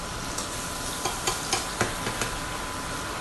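Garlic and tofu sauté in a hot pan with a steady, close sizzle, punctuated by several light stirring scrapes and taps at irregular intervals.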